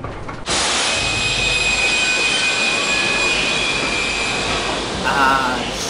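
Train rumbling in the Harry Potter 3 video game, a loud, steady roar of rolling carriages with a thin high squeal running through it, ending in a brief wavering groan.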